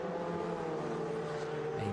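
A full field of Ferrari 488 Challenge Evo race cars with their engines at Sugo circuit, a steady broad roar of many engines blended together at a distance, constant and unbroken.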